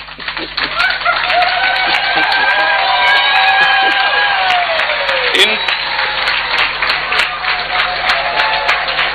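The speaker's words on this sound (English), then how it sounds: "by rising to your feet, by clapping and ululating" Crowd of Ghanaians in Zambia on their feet welcoming the President, clapping steadily and ululating, a dense continuous wash of applause with high trilling voices and cheers running throughout.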